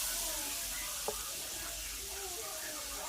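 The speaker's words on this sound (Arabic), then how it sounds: "ونحاول انني نحرك دغيا باش ما يتكورش ليا الدقيق." Flour is stirred quickly in a hot pan while making a white sauce for chicken with mushrooms. A steady soft sizzle and hiss runs throughout, with faint stirring and one brief tap against the pan.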